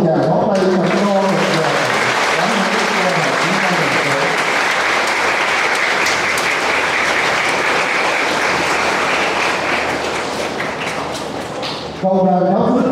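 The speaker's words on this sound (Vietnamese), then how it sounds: "Xin cộng đoàn cho một tràng pháo tay thật to." A church congregation at a bishop's visit for confirmation breaks into loud, sustained applause, a thick wash of clapping lasting about ten seconds, with speech before and after it.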